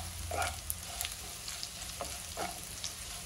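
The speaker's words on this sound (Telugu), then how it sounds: "ఈ లోపల మన కాకరకాయలు కూడా హాఫ్ ఫ్రై అయినాయి, ఇంకా కొంచెం ఫ్రై అవ్వాలి" Bitter gourd frying in a pan at home, a soft continuous sizzle of oil with a few light scraping stirs, quiet and close with no talking.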